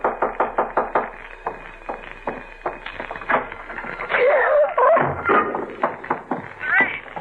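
Rapid, repeated knocking on a door in a dramatized horror story, with the sharp raps coming in quick runs. Voices and other overlapping sounds break in partway through.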